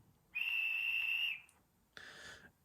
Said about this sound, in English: And F10 is the guard's whistle.